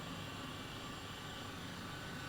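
Helicopter flying over London in Microsoft Flight Simulator 2020, a steady, faint, even rotor and engine drone with no talk.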